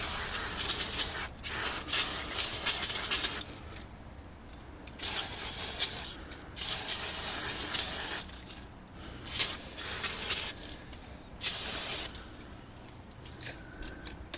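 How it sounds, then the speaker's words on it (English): Repeated hissing bursts of an aerosol brake parts cleaner, several short and long blasts with brief pauses, close to the microphone, sprayed onto the brake calipers of a 2000 Ford Falcon AU. "I'll just spray the calipers,"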